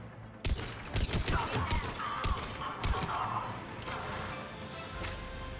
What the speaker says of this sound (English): What is all that firing?